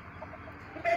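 Two young giant Polish chickens, about two months old, cluck softly at close range, with a slightly louder burst of clucking near the end and no talking.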